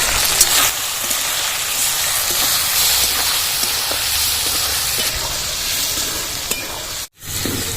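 Spice mixture of coriander powder, ginger-cumin paste, turmeric and salt frying in a pan, a loud continuous close sizzle with faint stirring scrapes throughout.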